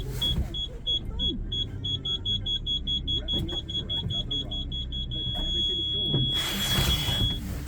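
A Chevrolet Aveo's rear parking sensor beeps in reverse, a run of evenly spaced short high tones that quicken and merge into one continuous tone as the car nears an obstacle. A low engine rumble runs beneath.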